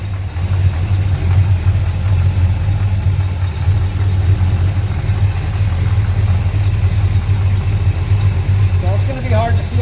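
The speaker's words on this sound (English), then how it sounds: "So I'm going to go ahead and just start the car here now, like you do any Mopar." A Mopar car engine, converted from electronic to points ignition, idles loud and close with a steady low, throbbing rumble that holds evenly throughout.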